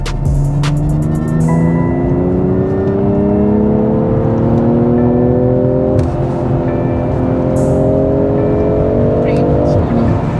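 A 2021 BMW M340i in Sport Plus mode revs hard and loud, its engine note climbing in long sweeping rises with a brief dip near the middle, steady and close throughout.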